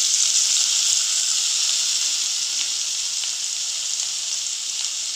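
Chopped onion hitting hot oil gives a loud, steady sizzle that holds its bright hiss throughout, alone with no voices, while frying for a cassava (maravalli kizhangu) cutlet.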